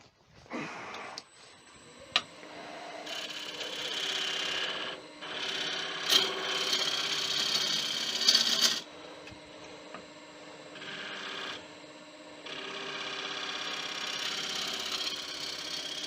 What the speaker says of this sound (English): Now we'll do a side bevel cut.